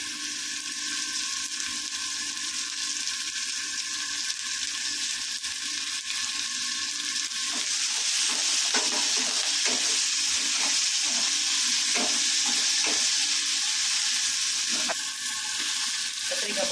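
Tomatoes and curry leaves fry in a pan with a steady close sizzle, broken later by scraping and stirring clicks.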